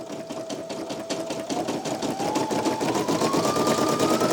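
A Brother PE-900 embroidery machine stitches at a rapid, steady rhythm, a close mechanical chatter whose pitch rises slightly as it runs, with no talking.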